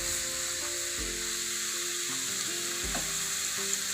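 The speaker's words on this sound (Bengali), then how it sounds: "একদম খুব ভালোভাবে এটাকে নেড়ে চেড়ে পেঁয়াজ, রসুন, মরিচ আর ভাজিটা একসাথে মিক্স করে ভালোভাবে নেড়ে চেড়ে দিতে হবে।" Onion, garlic, chili and fried vegetable peel sizzle steadily in a hot pan while being stirred, with a continuous close frying hiss broken by periodic scraping strokes.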